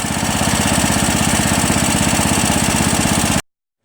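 A Poulan 15HP lawn tractor with a Tecumseh Enduro engine and a blown connecting rod runs at a steady, loud, rapid chug, then cuts off abruptly into silence.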